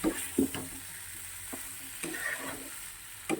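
Prawns and kohlrabi stir-frying in a pan, a soft low sizzle under a few scraping clinks of a spatula at irregular intervals, close and quiet, with no talking.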